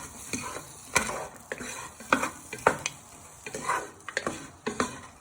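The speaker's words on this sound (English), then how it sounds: "fry your onion and garlic in your frying pan for a few minutes" Onion and garlic fry in a frying pan for a sausage casserole, a soft steady sizzle under frequent sharp scrapes and clinks of a utensil stirring against the pan, close and without talk.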